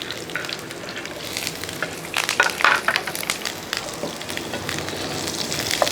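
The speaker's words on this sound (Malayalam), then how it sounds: "ആ വെളുത്തുള്ളി ഇവിടെ കൊണ്ടിട്ട് കൊടുക്കും വെളുത്തുള്ളി നോക്കട്ടെ വെളുത്തുള്ളി ഒരു രണ്ട് പച്ചമുളകും കൂടെ ഇട്ട് കൊടുക്കുകയാണ്" Garlic and green chillies frying in a pan: steady close crackling sizzle throughout, with a slightly louder burst of spatter partway through, no talk.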